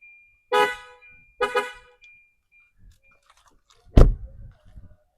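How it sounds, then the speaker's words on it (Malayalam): A modified aftermarket horn on a Tata Altroz blasts in two short, loud honks near the start, followed by a sharp thud and faint rattles near the end. "അത്യാവശ്യം നല്ല ഹോണാട്ടോ, നല്ല റേഞ്ചിലേക്ക് കേൾക്കാൻ പറ്റുന്നുണ്ട്"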